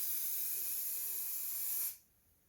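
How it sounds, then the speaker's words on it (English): Spray paint hisses from an aerosol can in a steady, close stream as a test coat goes onto the back side of a 2007 Ford Expedition center console panel, then cuts off abruptly, leaving near silence. "run a test coat here on the back side to see kind of how it looks like and what the spray pattern's like"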